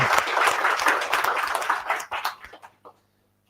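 Audience applause at a PyMunich meetup, a dense burst of clapping that thins into scattered claps and dies out near the end.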